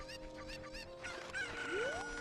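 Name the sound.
chicken clucking in the video game Zelda: Ocarina of Time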